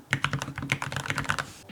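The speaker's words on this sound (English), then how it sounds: "it's not very loud with the type of switches on here." Quick, steady keystrokes clatter on a WhatGeek Dukharo VN96 mechanical keyboard, fairly soft and close, with an irregular typing rhythm and no voices.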